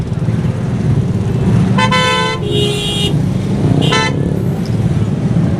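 Traffic jam on GT Road blocked by chingchi rickshaws, with continuous engine and road noise and two distinct car horn honks, one longer and one shorter, sounding close by amid the busy traffic.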